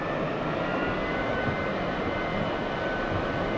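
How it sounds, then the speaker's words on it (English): BAE T-45 Goshawk jet engine in the DCS flight simulator, a steady, continuous whining roar that holds at even loudness throughout. "you can right click and hold the engine start button until we get a ready light come on"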